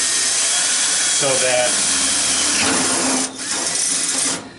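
A power drill whirs close by, boring a hole through the metal handle of a Dyna-Glo vertical charcoal smoker, a steady grinding drone that dips briefly and then cuts off, with a few words spoken over it.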